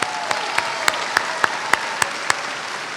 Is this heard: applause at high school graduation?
yes